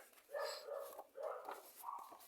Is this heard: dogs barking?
yes